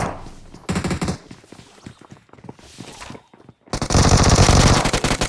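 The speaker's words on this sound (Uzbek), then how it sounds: "Obbo, ujetdan otishma boshlanib ketdi-yu." Rapid bursts of automatic gunfire from a video game, rattling in loud clusters with pauses between, ending in a sustained heavy barrage.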